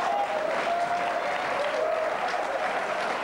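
Steady, dense applause from a studio audience at a 1993 German television talk show fills the whole stretch evenly and loudly, with a faint tonal line running underneath and no speech over it.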